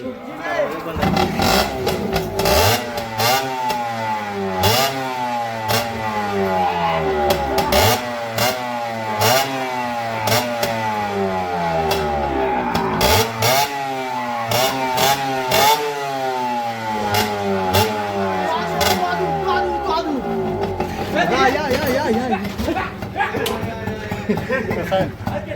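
A motorbike engine revs repeatedly in short rising bursts near the microphone, with steady rhythmic throttle blips throughout, while people talk and shout over it.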